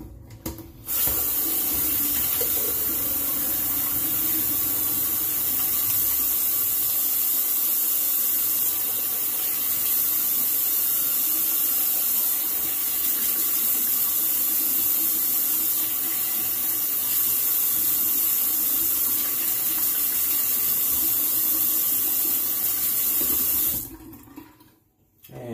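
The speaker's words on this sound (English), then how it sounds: "go ahead and do a cold water rinse" Steady running tap water splashes continuously into a sink for over twenty seconds, fairly close and even, then cuts off abruptly near the end.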